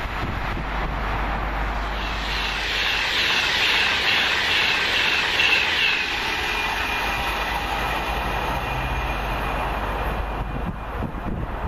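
A train from Crewe via Stoke-on-Trent rushes past the line at Kings Langley on its way to London Euston, a loud, steady roar with rail clatter that holds for the whole stretch, with no voices.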